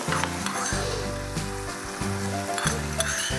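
Oil sizzling in a pan over a high flame, a continuous close hiss with a few light clinks of a utensil and brief bursts of sputter scattered through it.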